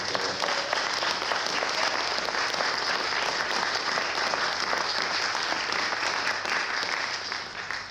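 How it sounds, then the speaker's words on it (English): A community gathering audience gives a sustained round of applause for a longtime local campaigner, dense steady clapping filling the whole stretch at even loudness before easing slightly at the end. "So let's give a big round of applause."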